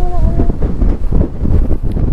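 Strong wind buffets the microphone in gusty low rumbles, loud and close, on an exposed road in San Nicolas, Pangasinan, with brief tonal whines near the start.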